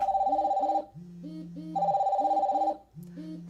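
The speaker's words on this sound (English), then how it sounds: "This is my phone, my Huawei watch, and this all ringing at once" A phone and a Huawei smartwatch ring together indoors, overlapping electronic ringtone melodies repeating in short cycles, clear and close with no talking.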